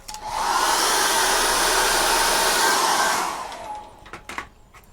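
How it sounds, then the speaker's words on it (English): A hair dryer roars steadily for about three seconds, loud and close, drying acrylic paint, then cuts off, leaving a few faint knocks and rustles. "we'll hit that with the hairdryer"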